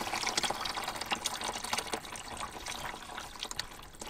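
Water steadily draining and splashing out of a flood-damaged Ford F-150 engine, a continuous trickling pour with scattered drips, moderately close and without speech.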